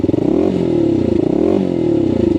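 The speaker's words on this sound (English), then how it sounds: "does sound like your standard off-road bike" A brand-new 2024 WK Scrambler 125cc off-road motorcycle idles close by, its single-cylinder engine putting out a steady throbbing beat with a couple of brief revs and mechanical clatter.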